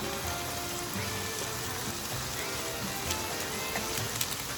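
Sofrito and sazon sizzle steadily in a large pot for Puerto Rican arroz con gandules, a dense, even hiss that stays constant throughout, with no voices.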